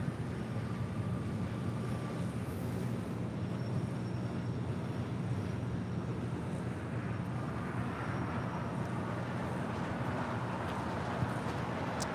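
A Breeze Airways Airbus A220-300 departs runway 25 right at LAX, its jet engines producing a continuous, heavy broadband roar that holds steady throughout, fairly near and without talking.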